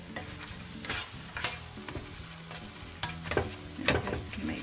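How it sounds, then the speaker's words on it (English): Eggs with chives stir-fried in a pan over low heat, a soft steady sizzle punctuated by a series of irregular scraping and clattering stirs of a utensil against the pan. "I'll turn down the fire to low so that the eggs don't get burned."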